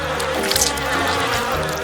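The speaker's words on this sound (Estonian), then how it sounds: "siin on nii palju mesilasi" A swarm of honeybees hums steadily around a kitchen, a continuous close buzz with overlapping wingbeat tones that swell briefly midway, with no voices present.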